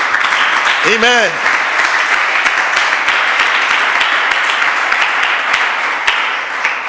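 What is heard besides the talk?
congregation applause in church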